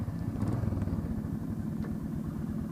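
A Royal Enfield Meteor 350 motorcycle is started and settles into a low, throbbing single-cylinder idle. The pulsing beat is close and steady, with no talk.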